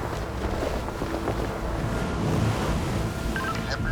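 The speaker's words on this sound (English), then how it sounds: "The wind is coming from the open sea, so the swell is increasing." Wind blows from the open sea while a rising swell washes around a tugboat, making a continuous broad rumble of water and wind noise close to the microphone.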